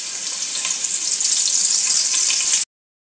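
Masala ingredients frying in hot oil for Kerala-style meen pollichathu: a steady, fairly loud hiss of sizzling with fine crackles, continuous and alone for about two and a half seconds before cutting to silence.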